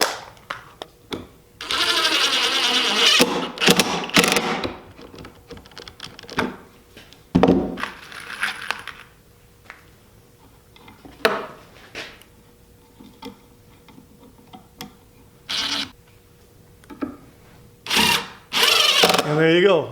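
A power drill drives Kreg 1.25-inch pocket hole screws into softwood in short whirring bursts separated by pauses, with knocks and thunks of the workpiece between them. Someone talks in between.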